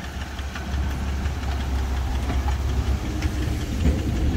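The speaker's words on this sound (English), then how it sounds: "there's some little knocking sounds" A 1984 Buick Regal engine running with faint knocking, a steady dense mechanical rumble close by with no talking over it.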